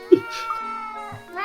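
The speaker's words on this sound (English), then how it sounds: "That's supposed to be a happy meow" A cartoonish cat meows in Professor Layton and the Curious Village, a short, clear, tonal cry with a quick chirp at the start, heard up close.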